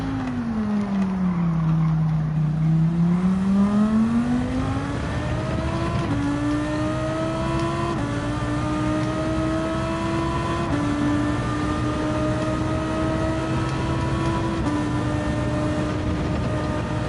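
Race car lapping Spa in Gran Turismo 7 on a twitchy qualifying setup, its engine droning loud and close, pitch dipping then climbing through a series of upshifts, each gear change a brief stutter before the revs rise again.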